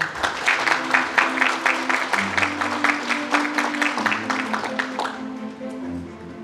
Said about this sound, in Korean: 여러분 부지사님을 다시 한번 뜨거운 박수로 환영해 주십시오